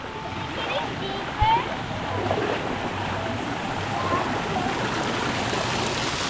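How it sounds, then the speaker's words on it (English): A waterfall at a resort pours with a steady broad rush of falling water, with a brief splash and people's voices heard over it. "Waterfall."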